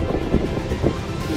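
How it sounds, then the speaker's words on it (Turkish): Wind on a mountain summit at İt Ulumaz Dağı in Niğde, a steady rushing buffet with low gusty rumble and no talk. "Rüzgarın sesini duyuyorsunuzdur."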